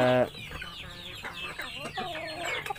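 Hubbard and Rhode Island Red chickens clucking close by, a busy stretch of overlapping clucks and soft calls from several birds, with a brief louder tone at the start.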